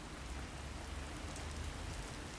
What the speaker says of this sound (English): There's a strong wind, and it's raining.